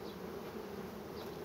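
Honeybees buzzing steadily at the hive entrance, a dense continuous drone with no voices and no pauses.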